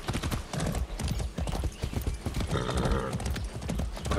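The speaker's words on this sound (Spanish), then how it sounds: "¡Vamos, este buen caballo!" Horse hooves gallop in a rapid, continuous rhythm in Far Cry 6 gameplay, loud and close, with a busy rumbling background.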